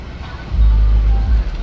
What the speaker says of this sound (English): wait for the car